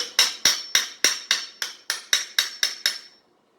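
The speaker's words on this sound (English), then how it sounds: "you can use a chisel, which will never be used for wood again" Hard ceramic tile grout being chipped out with a chisel, eleven sharp, evenly spaced metallic strikes ringing out close and loud, each fading quickly, with no talking.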